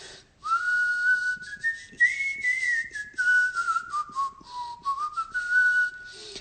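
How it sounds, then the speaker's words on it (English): A person whistles a wavering, sliding melody for several seconds, steady and fairly close, with brief breaths and small breaks between phrases and no talking over it. "any tips on my method of whistling?"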